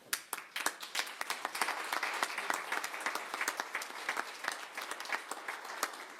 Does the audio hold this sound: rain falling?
no